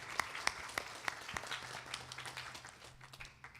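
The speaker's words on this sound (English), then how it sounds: "Please give them a round of applause." A religious gathering applauds a couple celebrating their 25th wedding anniversary, opening with a few distinct claps that thicken into scattered applause before fading out.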